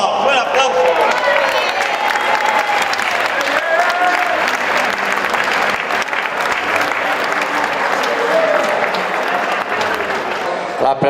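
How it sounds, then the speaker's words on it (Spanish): Sustained applause from a crowd at a gathering of the UDP in Llutxent, with some cheering mixed in, loud and steady throughout while a bouquet of flowers is handed to the volunteer director. "Un aplauso."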